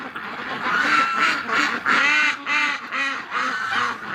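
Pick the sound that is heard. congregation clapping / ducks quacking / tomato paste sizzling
ducks quacking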